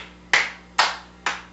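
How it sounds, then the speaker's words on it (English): Three sharp hand claps spaced about half a second apart during a playful running-in-place dance routine, each a crisp close slap with a quick decay, no voices. "Clap your hands."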